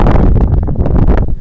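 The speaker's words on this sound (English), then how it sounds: "It's really windy." Wind roars and buffets loudly straight into the microphone while out bass fishing, a dense continuous rumble covering the whole short stretch.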